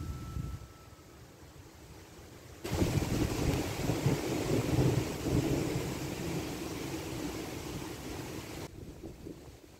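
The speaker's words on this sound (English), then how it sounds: "There's gonna be a storm. The winds are so strong." Strong storm wind roars at a homestead, starting low, then surging into a loud, rushing gust that holds for several seconds before dropping back, with rumbling buffeting against the microphone.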